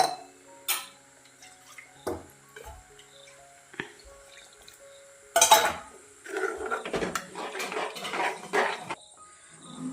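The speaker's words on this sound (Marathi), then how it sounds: "हे असं सतत आता फेटून घेते मी" A whisk beating besan pithla in a metal pot, first as sparse scattered clinks, then as a busier run of quick scraping taps against the pot.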